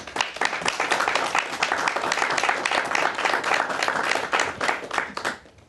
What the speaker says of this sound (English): From our in-studio audience, a nice warm applause for your candidates.